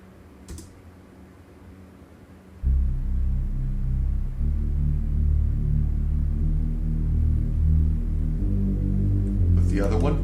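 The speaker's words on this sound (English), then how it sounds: "I brought in my Nexus 5 bass pad" A Nexus 5 bass pad synth sample enters after a few seconds of quiet and becomes a deep, loud, sustained low drone that holds to the end, with faint keyboard clicks near the start and finish.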